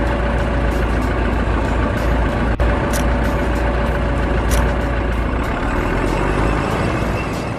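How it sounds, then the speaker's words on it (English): A heavy bulldozer engine from a kids' construction vehicles app rumbles at a loud, steady idle close by, a constant low drone with faint clanks and one brief sharp click. "A bulldozer is a tracked tractor used to push large quantities of soil, sand or rubble during construction"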